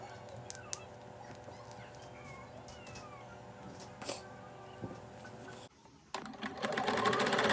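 A sewing machine stitches patches onto a custom jersey with a faint, steady mechanical hum and light clicks, briefly cutting out before a louder burst of machine noise at the close.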